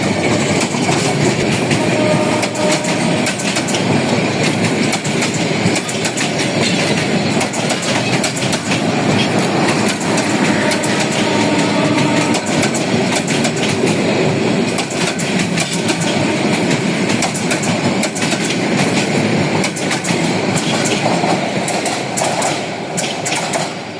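A train rumbles steadily past at close range in Dhaka, Bangladesh, its wheels clattering on the rails without a break, loud and continuous throughout.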